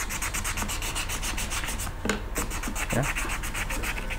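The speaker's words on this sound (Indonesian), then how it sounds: "tinggal digosok kayak gini aja, semuanya digosok ya, pakai amplas halus ya" Steady, continuous rasping of fine sandpaper rubbed back and forth on a pair of scissors to remove rust, with brief pauses and a couple of duller strokes.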